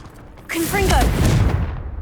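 Confringo fire spell cast in Hogwarts Legacy, a sudden whooshing burst followed by a rumbling, crackling explosion that trails off over about a second and a half, with a brief vocal sound near the start.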